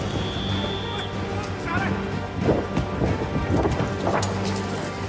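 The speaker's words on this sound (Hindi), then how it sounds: "एक तरफ मूसलाधार बारिश ने लोगों को डरा दिया" Heavy torrential monsoon rain pours steadily with a dense, continuous hiss and a few louder surges, close and loud throughout.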